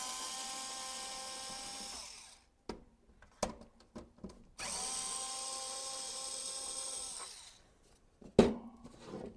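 Battery-powered screwdriver whirring in sustained bursts as it backs out GameCube case screws, two long runs separated by short taps and clicks of handling, a sharp clack near the end, close and clear with no talk.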